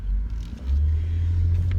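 A low, steady engine and road rumble fills a car cabin while driving, briefly dipping then swelling back to a heavy drone.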